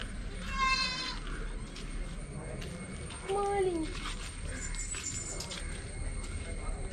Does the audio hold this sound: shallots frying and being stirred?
no